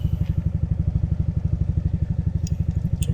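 A scooter motorcycle engine runs loud and close, a fast steady chugging throb with rattly clatter over it, continuous and with no talk.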